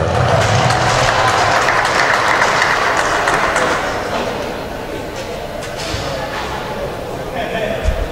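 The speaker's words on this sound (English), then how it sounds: "One more round of applause for Kalen Kafuk" Applause rolls through an arena at a Bantam AAA hockey championship awards ceremony, dense and loud at first, then thinning and fading as the clapping dies down.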